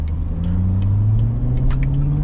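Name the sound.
stock car exhaust pops and burbles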